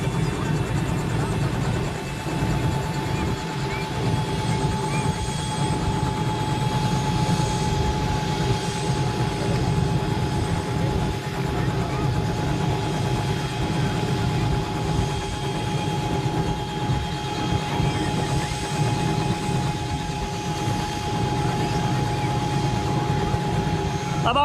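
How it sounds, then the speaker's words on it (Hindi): A helicopter carrying a wedding party lands at a royal wedding procession in Barmer, its rotor and turbine roar loud and steady throughout, with no clear speech. "अगले कुछ ही पल में सेकेंड टाइम हेलीकॉप्टर लैंड हो गया है"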